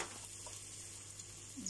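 Hot cooking oil in a pan, with garlic about to go in, giving a faint, steady sizzle and a soft crackle toward the end.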